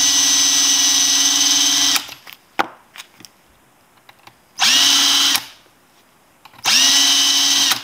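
A power drill spins .223 brass cases against a trimmer in loud, close, high whining bursts, running about two seconds, then pausing with small clicks and handling noise before starting again in further bursts.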